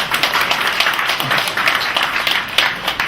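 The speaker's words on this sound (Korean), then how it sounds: "백수 하시라고 박수 한번 주세요." Audience applause at a poetry book launch for poet Lee Jong-hee, a steady dense patter of clapping from a room of people that carries evenly through the whole moment without a break.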